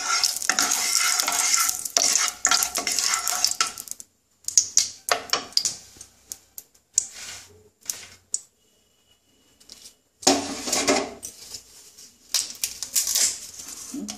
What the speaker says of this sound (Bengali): এবারে কড়াইয়ে তেল দিলাম ডালটা সাদলানোর জন্য